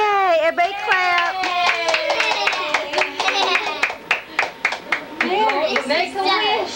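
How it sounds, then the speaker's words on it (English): Family members clap at a young child's birthday party in a mid-1990s home recording, sharp distinct hand claps in an uneven run mixed with cheering voices and children talking. "Everybody clap."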